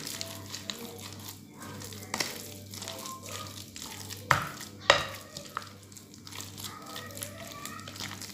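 A spoon works through a mashed chicken and potato perkedel mixture in a bowl, with repeated soft scraping and squishing strokes, close by, with a couple of sharper knocks against the bowl and occasional voice.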